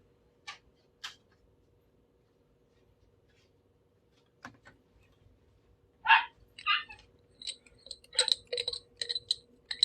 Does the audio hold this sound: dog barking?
yes